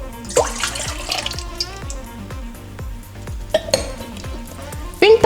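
Milk and water pour into the bowl of a stand mixer fitted with a dough hook while making pretzels, giving a near, splashy trickle with light clinks of the bowl under a running kitchen background.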